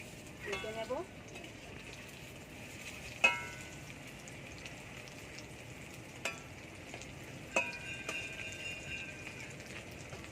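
Drumstick leaf pakoras fry in hot oil with a faint, steady sizzle, broken by a few sharp utensil clinks near the start, middle and end.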